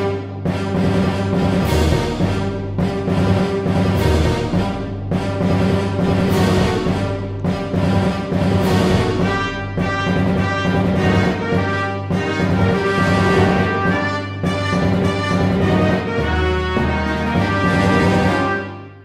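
A MIDI orchestral mockup plays back its first eight measures. Heavy, rhythmic brass and strings march along continuously and loudly, with no talking.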